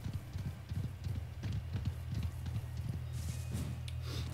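Rhythmic clopping hoofsteps of a deer climbing stairs in Pokémon Legends: Arceus, a steady run of muffled thuds with a faint background game score.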